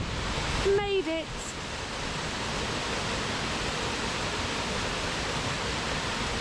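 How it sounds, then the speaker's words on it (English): Kester Hole waterfall pours in a steady, even roar of falling water that fills the whole scene, with a brief voice near the start. "It is a pretty nice waterfall."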